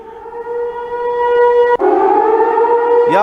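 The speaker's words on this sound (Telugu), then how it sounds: "ఈ సైరన్స్ సహజంగా యుద్ధ ప్రాంతాల్లోనో విపత్తుల ప్రాంతాల్లోనో మోగించేటువంటి సైరన్స్ ఇవి" A civil defense siren wails steadily during floods in Guizhou province, China, holding a loud sustained tone with a brief dip midway, and a second siren starts rising near the end.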